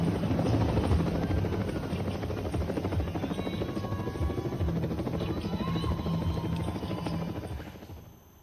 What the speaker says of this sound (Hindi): हेलीकॉप्टर से पुष्प वर्षा भी की गई है